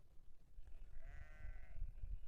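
Sheep and goats grazing by Tehri Lake let out a single faint, wavering bleat at a distance, set against low rumbling wind.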